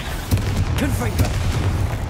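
Confringo spell blasts in the Hogwarts Legacy video game, several dull booming impacts spread across two seconds, a moderately loud explosive thud at each cast, with a spoken voice over the top.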